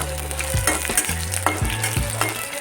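Onions frying in hot oil for a chicken dry fry, a dense continuous sizzle close up with repeated stirring scrapes, while a low steady hum runs underneath.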